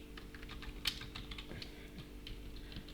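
Soft clicks of typing on a computer keyboard, a quiet run of light taps with one sharper keystroke early on, over a faint hum.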